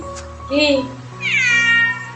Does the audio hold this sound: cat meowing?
yes